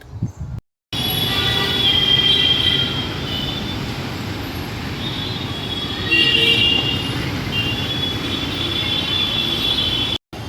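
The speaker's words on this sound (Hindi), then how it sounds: "So here I am standing near a newly made metro station" A metro train hums and rolls past a newly built metro station in Mumbai, a steady loud rumble with a high electric whine and brief swells, heard alone after a short gap at the start.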